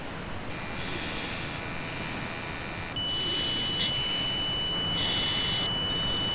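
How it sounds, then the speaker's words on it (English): An O2 alarm on a gas meter at a hazmat emergency response sounds a continuous electronic tone that grows louder and adds a steady high whine partway through, heard alone. "I'm turning off the O2 alarm."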